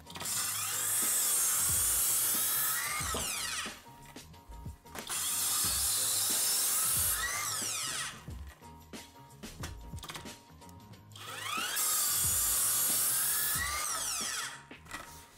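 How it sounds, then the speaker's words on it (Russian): Cordless circular saw cutting through an ordinary 25 mm wooden board containing a nail, heard as three loud, sustained whining cuts of about three seconds each, separated by quieter gaps with handling clatter. "Далее режем обычную 25-ю доску"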